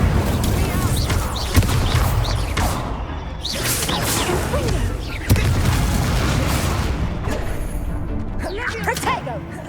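An Incendio fire spell is cast in Hogwarts Legacy amid a loud, continuous battle mix of whooshes, booms and impact crashes, with spoken voices over the combat.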